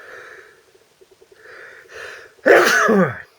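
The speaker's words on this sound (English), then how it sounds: "There we are, live sneezing." A single sharp, loud sneeze bursts out after a stretch of quiet rustling and faint background noise, close to the listener.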